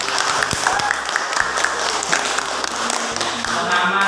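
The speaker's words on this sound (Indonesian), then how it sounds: "Aplaus untuk kita semua." Applause from a small group of students at a peer-teaching session in a Palembang university class, steady clapping with scattered sharper taps, moderately loud, with a few voices audible beneath it.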